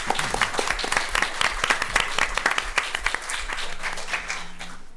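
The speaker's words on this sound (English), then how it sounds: "I actually would like to begin with a round of applause for Betsy Anthony." Conference audience breaks into steady, dense applause, many hands clapping close and loud, tapering slightly toward the end.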